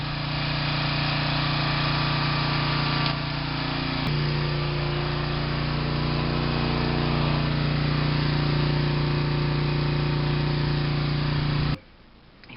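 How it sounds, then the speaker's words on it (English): A generator runs steadily and loudly during Hurricane Isaac, its engine drone holding a constant hum with a slight pitch shift partway through before cutting off abruptly near the end. "Generator."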